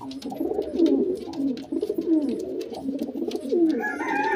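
Pigeons coo repeatedly in a loft cage, soft rolling calls overlapping close by in a steady rhythm, with light rustling in the background.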